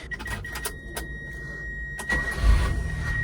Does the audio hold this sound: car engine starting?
yes